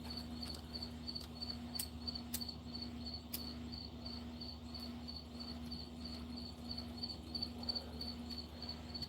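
Crickets chirp in a steady, rapid pulsing rhythm over a low continuous hum, with a few sharp faint clicks, no voices.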